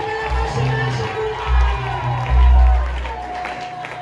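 A church congregation at a Sunday worship service claps and cheers, a loose crowd applause mixed with voices and a low, booming sound underneath.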